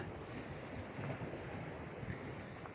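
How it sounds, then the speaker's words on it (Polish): Steady rushing wash of sea water and waves beneath an unfinished old pier in Ustka, close and continuous, with a gusty wind-like roar over it. "Pod spodem słychać Szum wody, szum fal."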